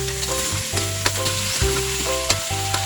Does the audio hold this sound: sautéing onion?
yes